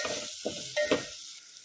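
Cashews and a small potato stirred and frying in a pan, with a few scraping stirs over a light sizzle, close and fairly quiet, with no talking.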